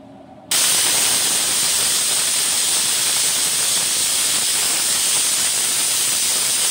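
Pressure cooker with cut eggplant inside venting steam: after a brief quiet start, a loud, steady, close hiss bursts in and holds unbroken to the end.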